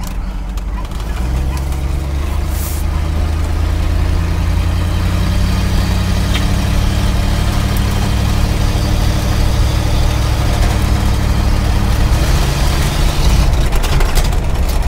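A 1959 Mercury Monterey's engine runs loud and steady with a deep rumble for about fifteen seconds, and the roar thins and falters near the end as it stalls after too much throttle.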